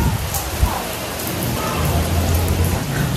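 Heavy rain falls steadily in a dense, even hiss, loud and close, with a brief thump near the start and a low hum underneath.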